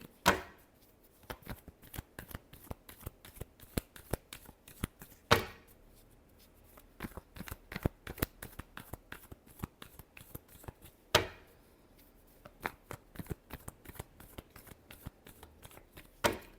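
Tarot cards are shuffled by hand in repeated bursts of soft riffling and flicking, close up and fairly quiet, with short pauses between rounds and no talking.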